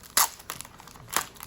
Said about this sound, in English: Sorry for the plastic noise.